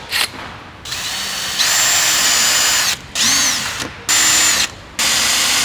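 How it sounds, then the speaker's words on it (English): A power drill with a step drill bit whines in repeated bursts, spinning up and cutting 8mm holes for a second or so each time with short pauses between runs. "we can drill some 8mm holes using the step drill bit"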